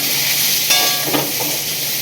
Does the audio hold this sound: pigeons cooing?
no